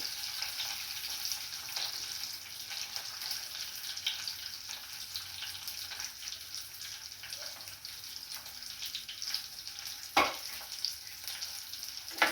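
Small onions and green chillies sizzle steadily in hot oil, a close, constant crackling hiss with occasional scrapes and knocks of a spoon stirring the pan.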